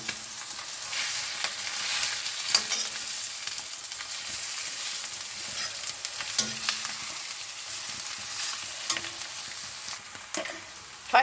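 Extremely spicy egg curry with chillies frying in a pan, a continuous close sizzle with repeated scrapes and knocks of a spoon stirring through it, ending in a louder clatter.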